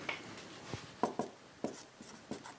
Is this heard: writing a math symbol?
yes